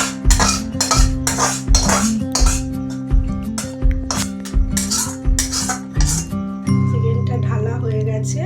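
Metal utensils clink and scrape against a pan as cooked chicken is lifted out, a series of close, sharp clatters in a home kitchen, followed by a steady low hum.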